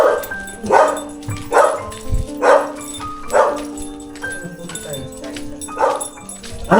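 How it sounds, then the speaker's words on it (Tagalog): A big dog barks in a steady series of about seven loud, close barks spaced roughly a second apart, with faint voices in the background. "Aso, laki."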